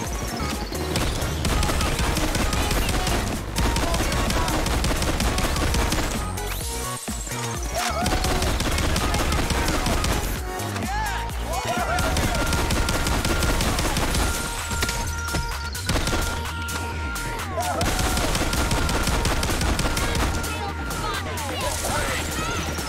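Dense, continuous shotgun gunfire in the video game Payday 2, loud blasts and crashes packed together in a sustained barrage with game noise throughout.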